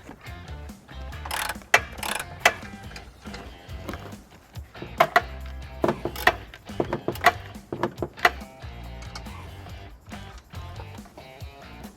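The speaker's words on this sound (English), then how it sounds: "Now with the canister lowered, we're going to be removing two bolts." Bolts being removed underneath a 2015 Hyundai Elantra GT during a trailer hitch installation, close bursts of ratcheting and clicking metal mechanisms in irregular clusters with quieter handling between them.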